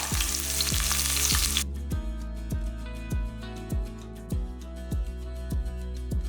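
Ginger and curry leaves crackle as they hit hot oil in a pan for a Tamil mutton kulambu gravy. A bright sizzle bursts at first, then settles into a steady fry with a regular thud or tap recurring under it.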